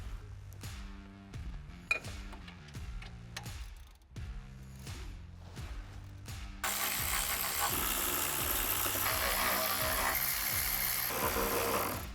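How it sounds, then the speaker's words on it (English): A ratchet backs out 13mm exhaust manifold bolts on a C8 Z06, a series of quick rhythmic clicking bursts close up, followed by a louder steady mechanical whir. "we are going to be removing the 5 13mm bolts here that hold the manifold to the head"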